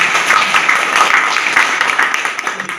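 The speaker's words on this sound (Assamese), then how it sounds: "আমি এটা জোৰে অকণমান হাত চাপৰি বজাইছোঁ।" A hall audience at a scholarship exam award ceremony at Cotton College in Guwahati claps loudly for the parents, a dense, sustained burst of applause that holds steady before thinning slightly at the end.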